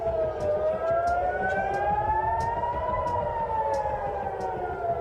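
A wailing air raid siren in Tel Aviv during an Iranian missile and drone attack rises and falls steadily over a dense background roar, loud and continuous throughout.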